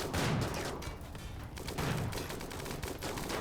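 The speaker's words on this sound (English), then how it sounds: "I think I might need some more rotary turrets." Rotary turrets in a video game fire continuously in a dense, rapid stream of shots. The firing is loud and steady, and it swells in two places.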